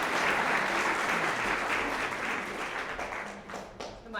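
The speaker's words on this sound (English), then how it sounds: "one more round of applause for everyone for being up here" A choir audience applauding the singers at a winter song share, a sustained broad wash of clapping that stays fairly even throughout, with scattered cheers mixed in.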